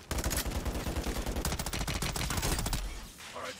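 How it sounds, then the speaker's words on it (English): Rapid burst-fire weapon shots from the Modern Warfare 3 video game, a dense stream of loud, sharp reports in quick clusters filling nearly the whole stretch before cutting off near the end. "This is a burst gun in Modern Warfare 3."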